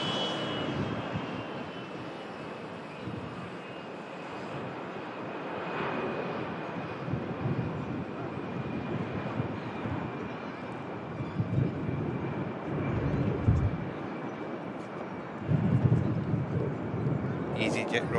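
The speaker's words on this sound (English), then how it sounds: "EasyJet. Just departing." An EasyJet airliner departs Manchester Airport, its engines a steady, distant broadband roar that builds toward the end, with wind buffeting the microphone and a voice talking over it.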